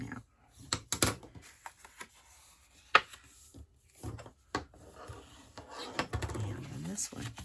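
Paper card pieces being folded and creased by hand: soft, irregular rustles, rubs and light taps close by, with a few sharper crinkles, scattered across several seconds under occasional quiet talk.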